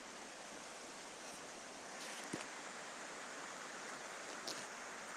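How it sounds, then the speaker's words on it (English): Continuous rushing water fills the scene, a broad steady wash like a stream or small falls, with a couple of faint splashes or knocks. "Sorry, is the water too loud?"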